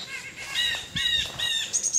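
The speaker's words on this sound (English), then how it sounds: "I hear wrens" Wren song outdoors in the fall, bright high chirps and trills in quick bursts, fairly close, with no talking.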